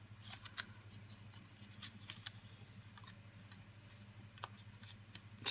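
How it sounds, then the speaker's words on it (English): Small scissors snip bits off a handmade card, giving soft, scattered clicking cuts at close range against a quiet background. "I can always snip bits off."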